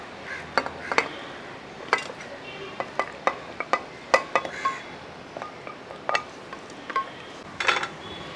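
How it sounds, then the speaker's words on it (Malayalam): Washed mutton pieces going into a pressure cooker in a home kitchen, giving scattered metallic clinks and knocks at an irregular pace, fairly faint and close, with no talking. "കഴുകി വൃത്തിയാക്കി വെച്ചിരിക്കുന്ന മട്ടണ് ഈ കുക്കറിൻ്റെ അകത്തോട്ട് ഇട്ട് കൊടുക്കുക"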